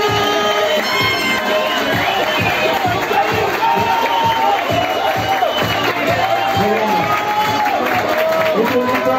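A theatre audience at a drag competition finale roars with sustained cheering, whoops and applause for a contestant, loud and continuous throughout, with a host's voice talking over the crowd.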